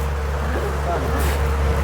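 A steady low engine drone runs throughout, like a Yamaha outboard motor close by, with water and wind noise and faint voices underneath.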